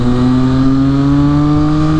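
A Triumph Street superbike engine holds a loud, close, steady rev, its strong even drone rising very slightly across a couple of seconds, with no voices.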